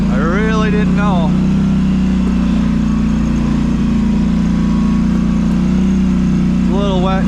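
A Polaris Sportsman 850 ATV engine drones loud and steady while driving over firm ground on a property. Someone talks over the constant motor noise.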